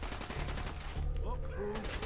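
Gunshots in Fallout 4, a quick run of shots early on and another brief burst near the end, fairly faint, with game sounds and muffled voices between them.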